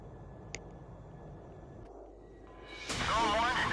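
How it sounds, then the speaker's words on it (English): A fighter jet in the video game Ace Combat Zero spools up for takeoff, its engine swelling into a loud, roaring rush after a quiet stretch of low cockpit hum and a brief chime. "You are cleared for takeoff."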